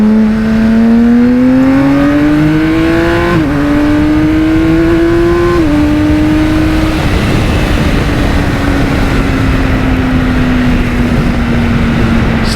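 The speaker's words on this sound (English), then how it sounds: "Stunning motor, exhaust, quick shift combination." A BMW K1600B bagger motorcycle revs hard through its exhaust with quick-shifter gear changes, producing a loud, close, continuous engine drone whose pitch climbs, drops sharply at each shift, then settles into a steady cruise.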